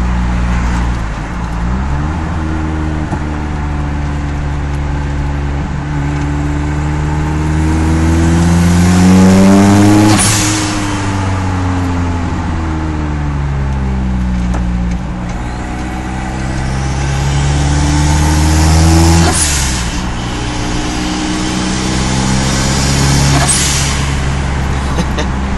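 Inside the cab of a turbocharged 22RTE Toyota pickup, the engine and exhaust drone loudly as the driver gives it gas, revs rising and falling in two long sweeps with turbo whine and a whoosh as the throttle lifts.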